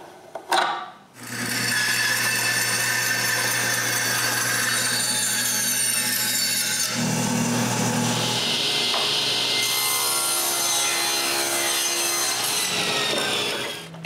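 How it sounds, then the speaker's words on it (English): A power saw cuts through a cedar clothespin box to form the slope for its cover, one long continuous loud whine with a rough wood rasp under it, pitch shifting midway, no talking. "it's time to mark for the cover slope and cut it"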